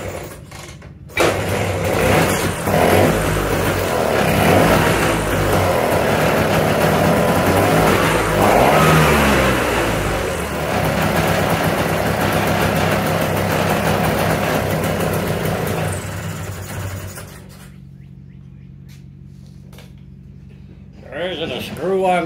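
Engine of a 1979 Vespa scooter that won't idle runs with a buzzing, uneven drone that swells and revs for most of the time, then drops to a faint low idle near the end.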